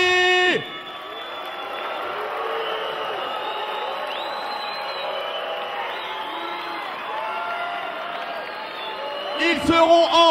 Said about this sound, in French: je vous demande d'applaudir le Karaté Club Colombes de Paris.